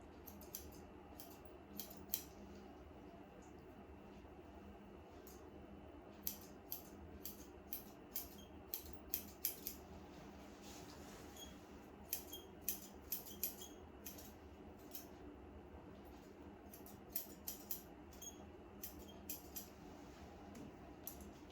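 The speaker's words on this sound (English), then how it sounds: "And I'm just going to cut that off straight." Grooming scissors snip through a poodle's top knot hair in quick, crisp bursts, clusters of close, sharp clicks separated by short pauses in a quiet room.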